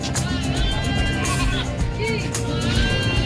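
Goats bleat repeatedly over a busy, noisy livestock market in Malasiqui, with several wavering calls overlapping near and farther off, and some faint talk.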